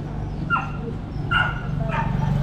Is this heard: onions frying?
no